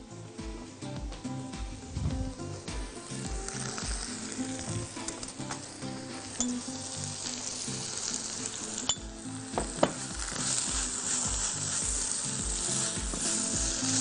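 Spinach is tossed onto frying garlic in a hot pan, a loud continuous sizzle with spoon and pan clinks as it is stirred, close up and without talking.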